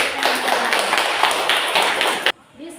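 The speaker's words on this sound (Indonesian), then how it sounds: "Kasih tepuk tangan untuk teman-teman." A class of students claps hands for classmates during a maths lesson, a dense, close round of applause that cuts off abruptly, followed by a short quiet moment with a faint voice.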